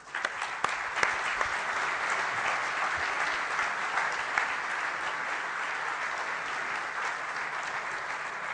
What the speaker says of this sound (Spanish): un aplauso de todos nosotros